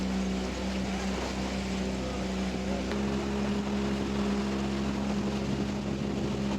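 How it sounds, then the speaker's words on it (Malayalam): A motorboat engine drones loud and steady on Ashtamudi Lake in Kerala, carrying the boat toward Sambranikodi, with a constant low throb that shifts slightly partway through. "ഏഴെട്ട് പേരായപ്പോൾ ബോട്ട് സ്റ്റാർട്ട് ചെയ്ത് സാമ്പ്രാണിക്കുടി ഏരിയയിലേക്ക് നമ്മൾ പോവുകയാണ്"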